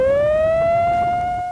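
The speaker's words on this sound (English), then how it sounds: "It's an emergency siren, and when it goes off, it alerts the whole neighborhood." An emergency warning siren in Deer Park sounds loud and steady, its wailing tone rising slowly in pitch as it winds up, with no voices over it.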